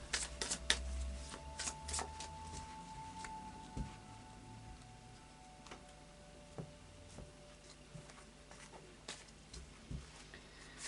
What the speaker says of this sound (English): a final shuffle of the Faery Oracle by Brian Foward.